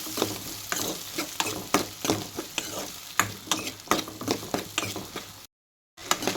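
Onions and cumin fry in oil in a pan, a busy close sizzle with rhythmic, repeated stirring scrapes and clicks about twice a second, broken by a short silent gap near the end.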